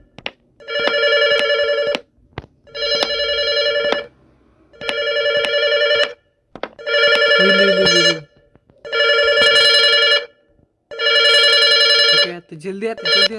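Telephone ringing loudly and close in a house, six repeated electronic ring bursts of about a second and a half each with short silent gaps, and voices briefly heard near the end.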